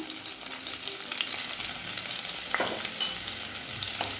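Chilli chicken stir-frying with green chillies and spring onion, a continuous close hiss of hot oil with occasional spatula scrapes, no voices.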